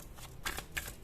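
Tarot cards are shuffled in a few quick riffling bursts, close and fairly soft, with brief pauses between the flicks.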